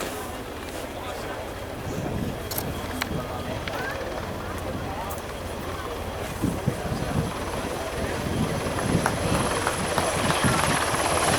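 A Finnish Army NH90 military helicopter's steady rotor throb and engine roar holds throughout, growing slightly louder toward the end as it passes by fairly close at an air show display.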